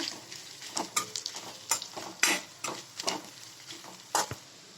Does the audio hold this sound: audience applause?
no